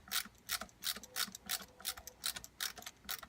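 Small screw being tightened into the lock of a muzzleloader during cleaning, giving a quiet, rapid series of dry metallic clicks and ratcheting ticks in an uneven rhythm, close up and faint.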